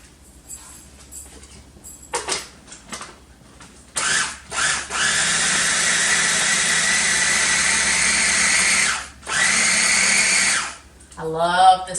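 Small mini food processor chopping poblano peppers, a loud high whirring motor running in two long bursts after a few short pulses, with clattering before and after.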